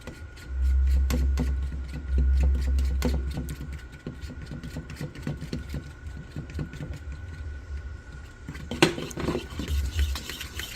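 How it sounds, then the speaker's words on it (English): Spoon stirring a cinnamon mix into keto bread batter in a bowl, with steady scraping and stirring strokes over low background hum, a few light clinks near the end. "So we are just going to stir it in here"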